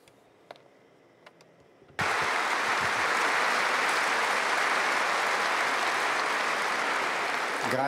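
Applause from an audience after a talk, starting abruptly after a near-silent moment with a few faint taps, then continuing as a loud, dense, sustained wash of clapping.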